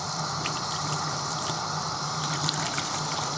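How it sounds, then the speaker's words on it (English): Water pours and gushes steadily, close and continuous, as a sponge is wrung out during cleaning of a Shark Navigator vacuum filter. "soaking it up with a bunch of water and then wringing it out"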